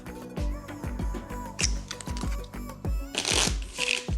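Cards being riffled and flicked through by hand as one is picked from a deck, a rapid series of crisp close-up clicks with a brief louder riffle near the end.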